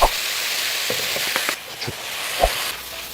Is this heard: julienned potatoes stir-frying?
yes